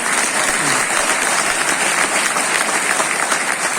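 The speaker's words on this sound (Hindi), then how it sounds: "एक बार अगर सुखी राम है तो अपने लिए जोरदार तालियां बजा दें" Loud, dense applause from a large crowd at a business motivational seminar in India, continuous and unbroken throughout, with some voices mixed into the clapping.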